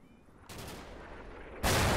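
Heavy 155 mm Russian artillery rounds in the modern-warfare strategy game Combat Mission Black Sea, heard as a sustained rumbling barrage that is suddenly joined by a loud, close blast near the end.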